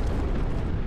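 An explosion in the video game Space Marine: a dense, continuous low rumble with a broad wash of noise that holds at a steady level through its short length and stands alone with no voices.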